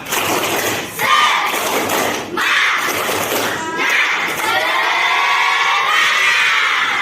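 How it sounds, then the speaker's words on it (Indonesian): A university class does a rhythmic group clapping cheer, with loud hand-clap thumps in bursts mixed with young voices shouting and chanting together, close and energetic. "Tepuk semangat."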